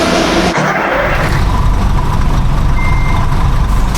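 A sleeper coach bus with an MBD V6 engine in Euro Truck Simulator 2 starts up after a brief pause, then settles into a steady, loud, low engine rumble that continues to the end.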